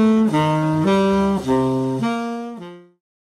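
A saxophone plays a quick run of diatonic arpeggio permutations, several distinct notes stepping between chord tones in an even rhythm, close and clear, ending on a final held note that fades out.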